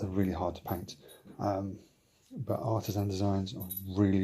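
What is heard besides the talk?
dog's collar tags jingling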